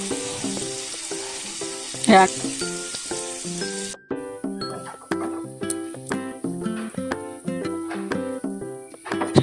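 Ginger and garlic frying in hot oil for a Bengali chicken dish, a steady sizzle with repeated clinks and scrapes of a spoon against the pan, close and fairly loud throughout.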